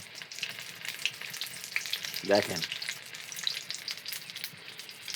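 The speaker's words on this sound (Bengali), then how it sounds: "কুমড়োর ফুল চাল বাটা দিয়ে বড়া হচ্ছে" Pumpkin flower fritters coated in rice paste sizzle steadily in hot oil, a continuous close crackle with a brief clink partway through, while a voice speaks a single word.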